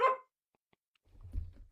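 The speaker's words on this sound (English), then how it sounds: "sharing my life struggles with my dog barking in the background" A dog barks once, close and fairly loud, at the home of a vlogger, followed after a pause by a low rumbling murmur.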